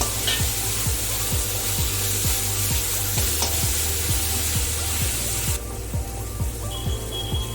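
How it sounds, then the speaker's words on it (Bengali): Fried potatoes are stirred into a spiced masala sizzling in a pan for prawn curry. A continuous loud frying hiss runs under rhythmic spatula scrapes that come every half-second or so, and the sizzle softens slightly toward the end. "এখন ভেজে রাখা আলুটা দিয়ে দেবো, দিয়ে আরো 1-2 মিনিটের মতন কষিয়ে নেবো আমি।"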